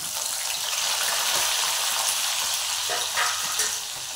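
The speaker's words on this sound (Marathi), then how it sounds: "कांदा आता परतत आहे." Onion sautéing in oil in a pan with green cardamom and black pepper, a steady, dense frying sizzle that holds close and loud throughout, with a few faint stirring touches.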